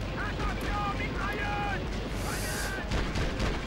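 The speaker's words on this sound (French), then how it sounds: "Encore une grenade." A grenade goes off during a firefight in Conflict: Vietnam, a rumbling blast amid steady loud gunfire and battle noise, with someone talking over it.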